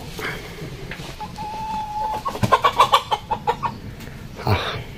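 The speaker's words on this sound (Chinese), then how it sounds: "现在大哥来抓鸡来" Chickens cluck and squawk in a rural farmyard as a man catches them, a steady murmur of fowl rising into a burst of loud, rapid, agitated squawks near the middle before easing off.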